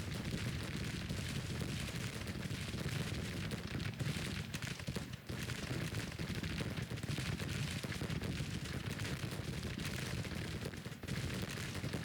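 Distant cannon and musket fire on a battlefield in the Civil War strategy game Grand Tactician: The Civil War, a faint, continuous rumble of overlapping shots and booms lasting the whole stretch without a clear break.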